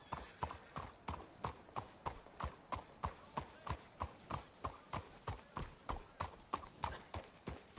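Horse hooves clip-clopping steadily in the Red Dead Redemption 2 video game, a regular, evenly spaced trot of sharp hoofbeats, fairly close and quiet, with no voices.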